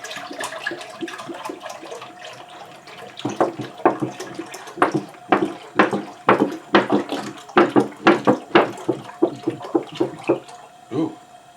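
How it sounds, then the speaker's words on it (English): A gallon of milk glugs and splashes as it is poured into a cooking pot, with irregular sloshing bursts that grow louder and more rhythmic midway through, close to the listener. "pour in a gallon of milk"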